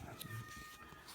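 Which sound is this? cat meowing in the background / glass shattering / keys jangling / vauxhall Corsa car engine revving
cat meowing in the background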